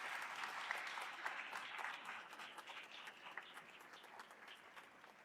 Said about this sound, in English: Can we give a little special round of applause for Lisa?